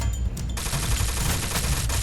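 Rapid bursts of gunfire in a first-person shooter video game, dense automatic shots rattling continuously and loudly with no talking over them.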